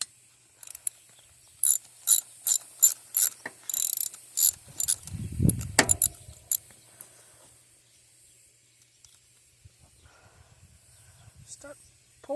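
A ratchet clicks in short rapid bursts while loosening stubborn bolts on a Honda Foreman 450S ATV during a rebuild, followed by a brief scrape and quieter handling noises.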